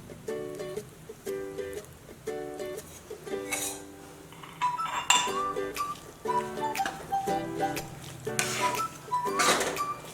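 Wheat flour roasts in ghee over low heat for aata halwa as a spoon scrapes and clinks against the pan in a steady series of close metallic strokes, with a faint sizzle underneath.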